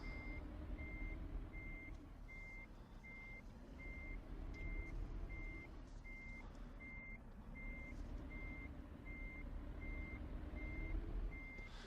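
Steady evenly spaced reversing beeps from a truck in Euro Truck Simulator 2, repeating about twice a second over a continuous low engine rumble.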